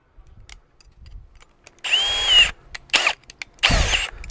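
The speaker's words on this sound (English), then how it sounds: "That's going to hold the post plumb for me while I drill my other 2 holes." A power drill with a quarter-inch bit bores holes to fix a wrought iron gate post, giving three short whining bursts of rising pitch, close and loud, with quiet handling noises in between.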